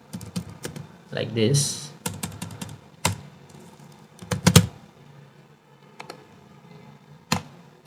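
Keys clack on a computer keyboard in quick uneven bursts with pauses between, close and clear, while someone speaks briefly over the typing.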